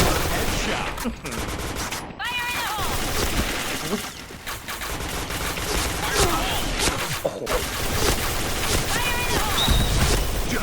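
Bursts of AK-type rifle fire in the Point Blank shooter game, rapid and fairly loud across the whole stretch, with a voice talking over the shooting.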